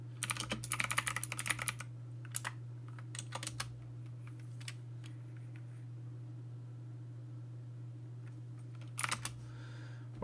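Bursts of computer keyboard typing on a new desk keyboard, quick clattering keystrokes in clusters at the start and end with scattered taps between, over a steady low electrical hum.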